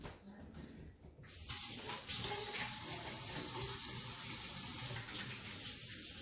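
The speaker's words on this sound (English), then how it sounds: "Let me wash my hands real quick" Hands washed under a running kitchen tap: a steady hissing stream of water, quieter at first and then full and continuous, with faint rubbing and splashing.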